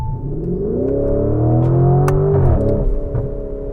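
A Lamborghini Urus SE SUV in sport mode revs its engine loudly and close by, the pitch rising in a sustained climb and then dropping sharply as it shifts, with no talking.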